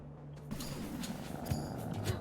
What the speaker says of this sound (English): They purr so cutely